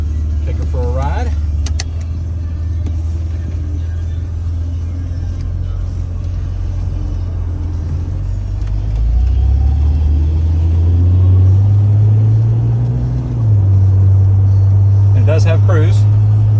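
A low-mileage 2000 Jeep Wrangler Sahara four-door pulls away on a drive, with a steady loud low engine rumble that rises as it picks up speed, heard from inside the cab with a person talking over it.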